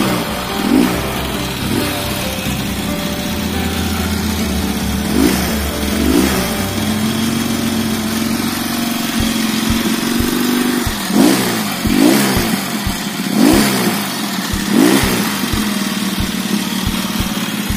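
A Laverda 750 SF motorcycle engine runs nearby with a rough, lumpy idle, blipped up into several sharp revs that fall back each time, loud and alone with no talk.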